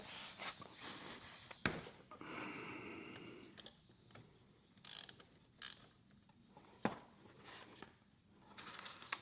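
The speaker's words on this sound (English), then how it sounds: "Okay, let's take this strainer bolt off." A ratchet wrench clicks in short bursts while loosening the oil strainer bolt on a 2022-or-newer Yamaha Zuma 125 scooter, close and fairly quiet, with pauses and scattered mechanical clinks between strokes.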